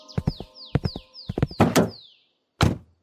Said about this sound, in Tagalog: Nang lumabas si Mayor Luis, pinuksan ko ang pintuan ng kotse